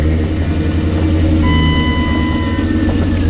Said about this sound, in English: So I'm just going to start the truck up